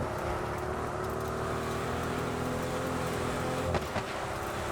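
A G-Wag in Test Drive Unlimited Solar Crown rumbles off-road with a steady, moderately loud engine drone held at an even pitch. A brief thump or jolt lands near the end, then the drone carries on.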